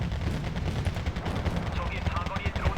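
Mortar and gunfire rumble through a battle in Wargame Red Dragon, set in a Second Korean War campaign: dense, continuous booms and crackling shots layered into a steady wall of combat noise with no clear gaps.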